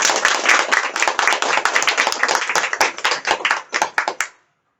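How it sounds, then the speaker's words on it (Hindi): Audience clapping at a business-opportunity seminar held in a herbal store, a dense, loud burst of many hands that carries steadily, then thins into a few scattered claps before stopping abruptly. "सबके लिए एक बार जोरदार ताली होना चाहिए"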